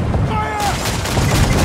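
Ship cannons fire in a volley during a naval battle in Assassin's Creed Freedom Cry, a dense, loud burst of booming shots crowding together over a second and a half.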